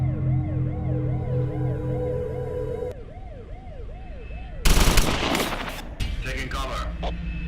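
Gunfire in the cyberpunk game Satellite Reign at a docks level: after a wailing police siren and game music, a sudden loud burst of rapid automatic shots erupts, followed by further crackling volleys and impacts.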